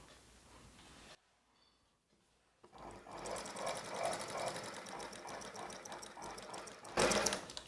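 Sewing machine stitching a silk saree blouse with a back boat neck, running in a steady continuous whir after a short pause, close and fairly loud, with a brief louder burst near the end.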